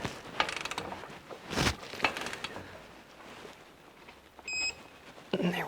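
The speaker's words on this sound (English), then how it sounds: "Then we set our torque wrench down to 96 foot-pounds because that's what it wants." A torque wrench tightens the drive clutch bolt on a Polaris RZR side-by-side, giving several sharp ratcheting clicks and metallic knocks at irregular intervals, ending in a brief high ping, up close with no talk.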